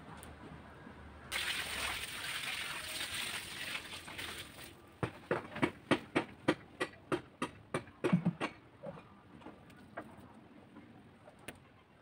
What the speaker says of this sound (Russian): Сейчас будем поливать. Прольем хорошенько ее.